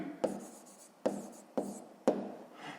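A pen writes numbers on paper in four short scratchy strokes, close and fairly quiet, each a quick burst with brief pauses between.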